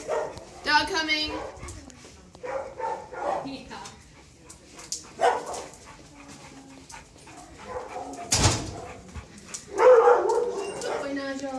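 Dogs bark and yip in a dog handling session, sharp barks and whimpers scattered among people talking nearby.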